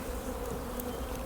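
Old honey bees swarming at an open hive, a steady, dense buzz close to the ear, continuous and even throughout with no speech.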